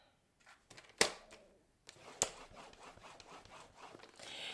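A Stampin' Up paper trimmer cuts through paper in a quiet setting. Two sharp clicks from the blade are separated by soft sliding and rustling noises, with a brief hiss at the end.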